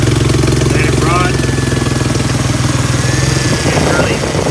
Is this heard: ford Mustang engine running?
yes